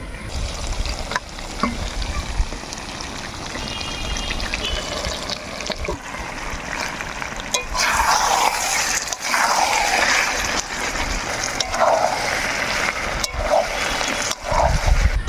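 Water pours into a pan of chicken curry cooked down with ground taro leaves, a steady trickling splash running throughout, growing louder and more bubbly in the second half with sizzling underneath.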